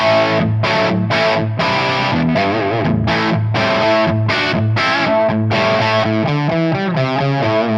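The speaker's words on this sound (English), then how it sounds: "Neck pickup. Second level of gain on the jump channel." Electric guitar on the neck pickup through the second gain level of an amp's jump channel, playing distorted chords and riffs with sustained harmonics, loud and continuous with no talking.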